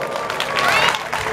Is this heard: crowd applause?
yes